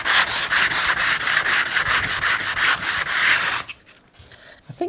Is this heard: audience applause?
no